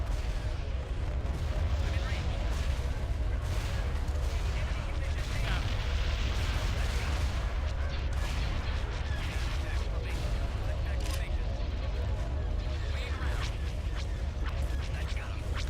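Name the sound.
artillery fire in a video game mod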